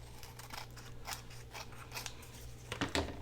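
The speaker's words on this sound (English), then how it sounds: "So we're going to trim this." Scissors trimming paper for a corner tuck pocket, a series of crisp close snips spread over a quiet background, ending in a louder pair of cuts, with no talk.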